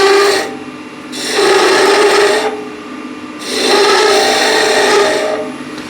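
Skew chisel roughly scooping out wood on a lathe, three loud rasping cutting bursts, each lasting about a second with short pauses between, heard close and alone.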